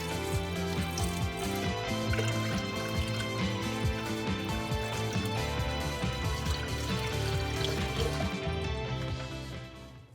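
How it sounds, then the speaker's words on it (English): Water poured onto a filter bag in a betta aquarium riverbank aquascape over sand, a continuous splashing, gurgling stream with dense bubbly texture that fades out at the end. "I'm going to use this little piece of a filter bag and dump the water on that."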